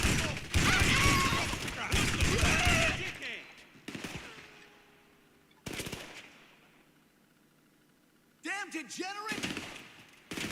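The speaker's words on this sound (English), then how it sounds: "Shotgun." Shotgun blasts in GTA 5 Online, loud dense bursts of gunfire in two clusters early on, then a short blast near six seconds and more shots near the end, with game voices and effects in between.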